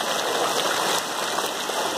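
Steady rain hisses down in a dense, even wash of noise, close and constant without a break.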